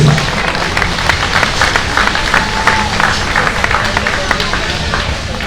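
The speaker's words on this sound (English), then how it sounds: "Give these kids a round of applause" Audience applause at a breeding sheep show, broad steady clapping at full volume throughout with crowd noise and some voices mixed in.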